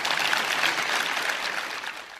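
An audience applauds to welcome Jean-Yves Clément and Brigitte Engerer at a Chopin recital, a dense, steady patter of many hands filling the hall, easing slightly at the end.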